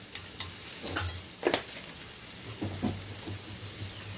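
Masala with turmeric and Kashmiri red chili powder sautés in a pan, a faint, low sizzle broken by a few quick spoon-against-pan clinks and stirring scrapes, with no talking.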